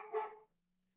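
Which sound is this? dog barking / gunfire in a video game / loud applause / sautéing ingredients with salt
dog barking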